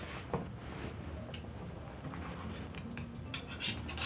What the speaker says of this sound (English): I just want little slices of the pineapple